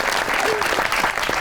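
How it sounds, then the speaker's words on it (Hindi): A studio audience at a comedy talk show applauds in a dense, steady burst of clapping that fills the whole moment. "आपकी बहुत सी तालियों में द वन एंड ओनली जन्नत मिर्जा।"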